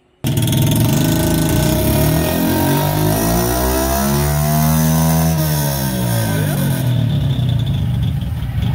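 A Honda Biz 110i fuel-injected motorcycle engine revs hard on a dynamometer, its pitch climbing steadily then falling back in one long sustained run, loud and close, with no talk.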